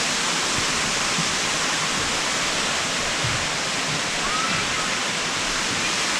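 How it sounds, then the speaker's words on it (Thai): A steady, dense roar of falling water fills the space continuously, broad and unbroken, from a waterfall at a Thai forest temple. "ก็จะได้ยินเสียงน้ำตกที่ ชัดเจนมากขึ้นนะครับ"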